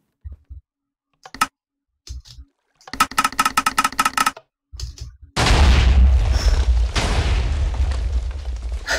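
Comparator cannon firing in a video game: a series of clicks and mechanical stutters build up, then a massive, loud boom erupts and rolls on as a sustained rumbling roar for several seconds.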